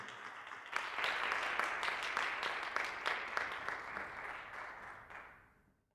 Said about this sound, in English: I don't know if you heard the applause